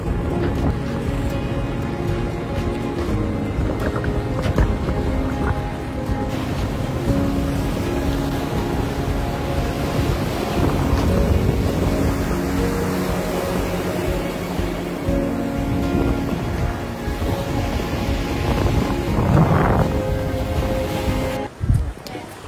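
Rough sea and gusting wind buffet a boat crossing from Phuket toward Phi Phi Island, a loud constant rumble of engine, water and wind noise with occasional bumps.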